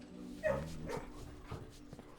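A puppy in the video game Blue Prince gives a short bark followed by soft whimpering yips. The sounds are close and fairly quiet.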